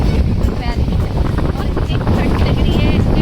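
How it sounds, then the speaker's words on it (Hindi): Cold wind blowing hard at Manikaran, a loud, steady roar buffeting the microphone throughout with a voice speaking underneath. "इतनी ठंडी हवा चल रही है कि आप सोच नहीं सकते"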